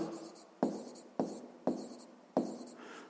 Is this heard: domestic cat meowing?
no